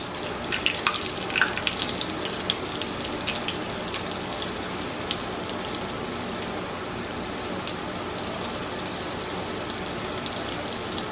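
Ramps deep frying in a skillet of hot oil give off a steady, dense crackling sizzle that runs evenly from start to finish at moderate loudness, with no voices.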